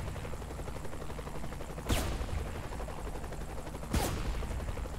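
Two sharp gunshots from Saints Row: The Third, spaced about two seconds apart, cutting through a steady bed of game noise.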